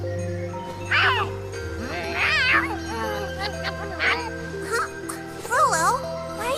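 Rolo the cat meows several times in Tales of Xillia 2, short rising calls repeated over steady game music with chiming tinkles, fairly close and clear.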